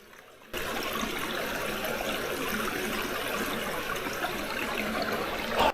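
Clear water trickling and burbling along a wilderness stream in Algonquin Park, Ontario, a steady close rush of flowing water that continues alone without talk.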